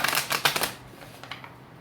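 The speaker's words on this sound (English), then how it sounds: "Big cards are hard to shuffle sometimes." Large tarot cards are shuffled in a quick burst of crisp riffling flutters, loudest at the start and trailing off into a few lighter taps, close to the microphone with no talking.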